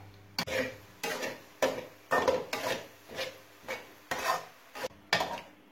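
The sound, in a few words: roasting moong dal halwa in a pan over low flame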